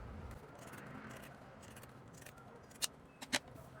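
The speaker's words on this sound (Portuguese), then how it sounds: "eu vou usar minha tesoura de picote, vou cortar bem rente aqui" Pinking shears snip through fabric close to a sewn seam, a few crisp, sharp cuts clustered near the end against a quiet room background.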